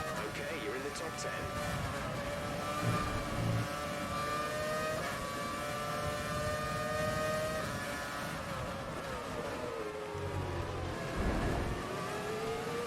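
A Ferrari F2007 race car engine at Silverstone in the F1 2020 video game whines and revs through gear changes, loud and continuous, while someone talks over it throughout.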